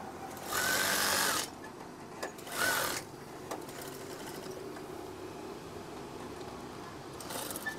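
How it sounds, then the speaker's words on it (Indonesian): A sewing machine stitching a curtain hem runs in two short bursts, a steady whirring buzz for about a second, a pause, then a briefer run, followed by quiet handling noises and a faint restart at the end. "Dan jahit lagi."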